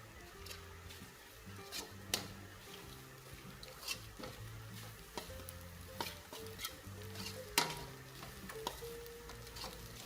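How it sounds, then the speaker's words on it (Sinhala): Chicken pasta kottu with egg pieces stirred in a sizzling pan, soft continuous frying hiss broken by repeated sharp clinks and scrapes of the utensil against the pan, close by. "බිත්තර කැබලි ටික එකතු කරගෙන තව ටිකක් හොඳින් කලවම් කරගන්න"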